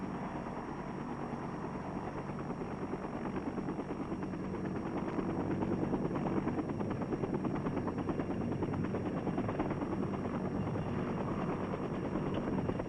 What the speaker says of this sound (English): The 5 tough little choppers circle to take their places as protectors of the air fleet